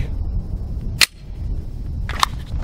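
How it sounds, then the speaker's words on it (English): A handgun fired at a target during a concealed carry drill: two sharp, loud shots about a second apart, the first followed by a brief quiet gap, with outdoor background hum between them. "Draw, finger off the trigger, get your sights on target, and fire."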